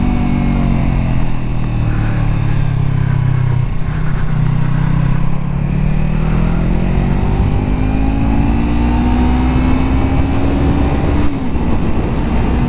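A small motorcycle rides on a race track, its engine droning steadily and loud throughout, pitch sagging then climbing gradually as it accelerates, with a brief dip near the end.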